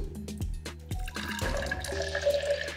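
Water poured into a glass for a color-changing flower experiment, preceded by a few light clinks and taps, then a steady trickle that rises in pitch as the glass fills, close and moderately quiet.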